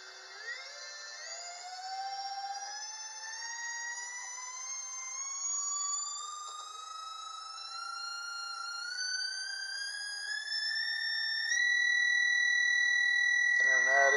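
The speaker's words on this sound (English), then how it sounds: "by flipping the dip switch here, we can get some real speed out of this motor" A NEMA 34 stepper motor on an MC860E driver spins up to full speed, its loud, close electronic whine climbing steadily in pitch and then holding a high, even tone with no talk over it.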